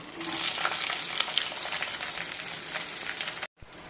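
Chopped green chillies and onion pieces frying in hot oil with mustard seeds, a dense close sizzle with a few pops and stirring scrapes, cutting out abruptly near the end.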